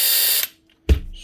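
Screws being driven out of the housing of a Makita DHP489 cordless drill, a close whirring power-driver buzz that stops, then a sharp mechanical clunk after a short pause.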